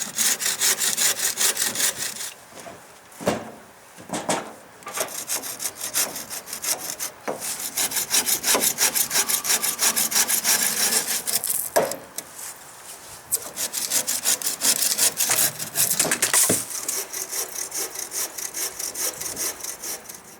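Hand-sawing through wooden teepee poles to trim them to twelve feet, a loud close rasping saw in long rhythmic back-and-forth strokes, broken by a few brief pauses between cuts.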